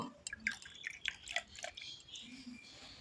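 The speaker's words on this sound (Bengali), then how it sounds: "এবারে ঘটে জল দিয়ে দেব" Water trickles and drips into a ritual pot, a few soft, quiet splashes and drops in a hushed room.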